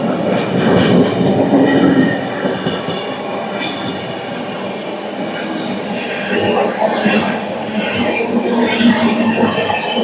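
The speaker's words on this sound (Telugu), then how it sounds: "మన ట్రైన్ కూడా లైట్గా మూవ్ అయిపోయింది." The Venkatadri Superfast Express starts rolling slowly along the tracks, a close, steady rumble and clatter of wheels under intermittent voices.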